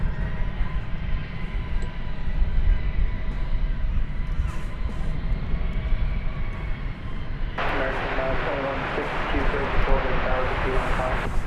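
An Aeromexico Connect Embraer E190 jet at Dallas Fort Worth airport gives a steady, loud engine roar throughout. A broadband rush swells in partway through, and talk is heard over it.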